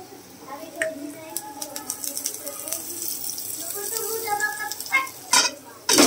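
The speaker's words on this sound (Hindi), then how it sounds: "तो अभी मैं डाल रही हूँ आलू" Potatoes dropped into a hot pan sizzle and crackle close by, with clinks and scrapes of utensils and a sharp hiss burst near the end, while someone talks over it.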